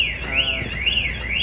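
Car alarm going off nearby, loud and continuous, its pitch sweeping up and down in a steady wailing cycle.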